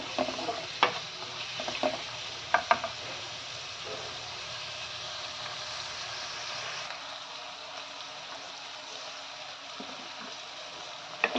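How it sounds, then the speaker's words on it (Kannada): Onions sizzling and frying in hot oil as a tempering for radish leaf stir-fry, with a steady crackle, a few sharp clinks of a spoon stirring the pan near the start. "ಸ್ವಲ್ಪ ಬೆಂದರೆ ಸಾಕು ಈರುಳ್ಳಿ ಒಗ್ಗರಣೆಯಲ್ಲಿ"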